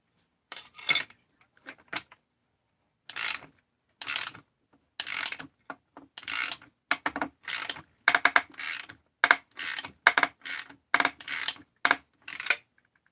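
A bearing is cranked into a Husqvarna 372 chainsaw crankcase with a ratchet tool, giving a close series of sharp metallic clicking bursts, sparse at first and then more regular, with quiet gaps between them.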